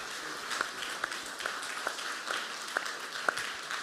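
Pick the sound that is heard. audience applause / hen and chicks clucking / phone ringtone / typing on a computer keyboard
audience applause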